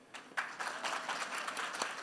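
An audience at a Dad's Garage improv show gives a soft, brief round of applause, dense clapping held at a moderate distance with no voices over it.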